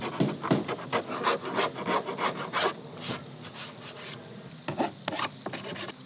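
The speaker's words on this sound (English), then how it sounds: "for this one, I'm just gonna file it" Repeated rasping strokes of a hand file on the ends of a piece of fascia trim for a deck corner butt joint, close and steady, with brief pauses between bursts.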